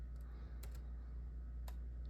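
A few key presses on a computer keyboard while entering a choice into a program, soft isolated clicks spread unevenly over a quiet steady hum, faint and close.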